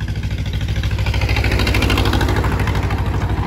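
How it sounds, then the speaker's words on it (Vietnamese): A farm tractor's diesel engine chugs loudly and close on a rural road, a dense rapid throb that fills the whole stretch without any talk. "Xe máy cày vừa đi ngang qua nó hơi ồn anh chị em."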